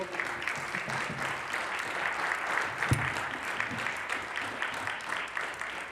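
An audience applauds a guitar and flute duo after their performance, steady dense clapping that holds throughout at a moderate distance, with faint voices underneath.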